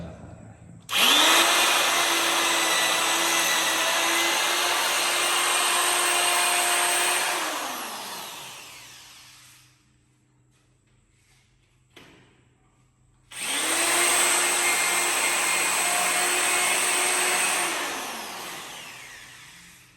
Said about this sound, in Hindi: ड्रिलिंग करते हैं।